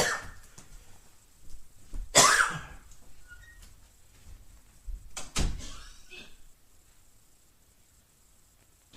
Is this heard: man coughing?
yes